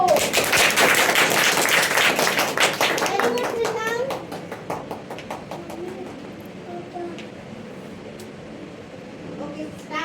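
An audience at a children's drama academy comedy show bursts into loud dense clapping that thins into scattered claps and fades, with voices talking over the tail.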